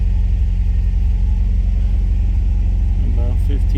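A 1967 MGB-GT engine idles steadily at about 1500 rpm, a constant low, even rumble close by, with a voice speaking briefly over it near the end.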